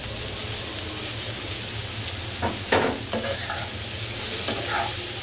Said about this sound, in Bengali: এখন দিচ্ছি আমি সেই চিংড়ি মাছগুলো হলুদ লবণ দিয়ে ভেজে রেখেছি, ওই মাছগুলো আমি দিয়ে দিচ্ছি